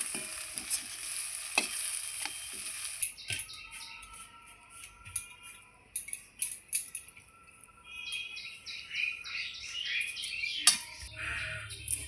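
Food frying in a pan with stirring scrapes and a steady sizzle, close and moderately loud, with faint birdsong in the background and no talking.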